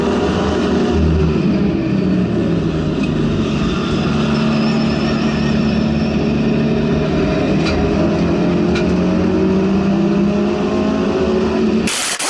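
Subaru WRX STi driving on the road with a worn, noisy rear wheel bearing, giving a steady loud drone of tyre and road rumble for the whole stretch with no talk.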